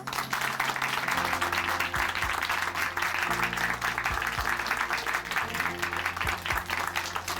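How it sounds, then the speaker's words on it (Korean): Church congregation applauding a testimony speaker at a Korean church service, a steady wash of clapping throughout with low tonal hum underneath and no voices. "다시 한번 큰 박수 보내드릴게요"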